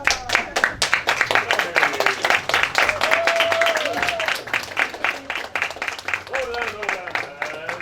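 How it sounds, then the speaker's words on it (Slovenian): Audience at an improv theatre show applauding, dense continuous clapping from a crowd with a voice speaking over it at times. "Dame in gospodje, velik aplavz za Jana!"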